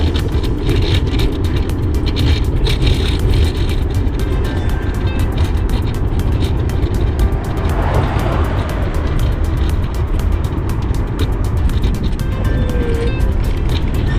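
Steady engine drone and wind rush from a motor scooter riding along in the morning, loud and close, with no one speaking.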